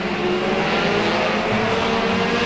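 Several race cars circle a track in a continuous roaring blend of engines at speed, loud and steady throughout, with faint tire noise under the drone.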